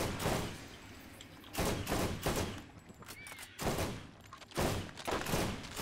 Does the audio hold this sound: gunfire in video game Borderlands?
yes